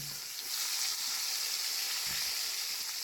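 Raw mango pieces sauté in oil in a pan for pickle, giving a steady, close, even sizzle for the whole stretch with no voices.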